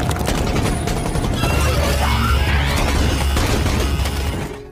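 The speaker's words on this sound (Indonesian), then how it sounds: "Levi dan Rasa mencoba membasmi mereka dengan tembakan." Sustained gunfire in an Indonesian-narrated horror film as two characters shoot at attacking skull-faced spider creatures; dense, loud rapid bursts and booms fill the whole passage without letup, fading slightly at the very end.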